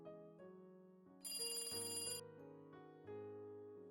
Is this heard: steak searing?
no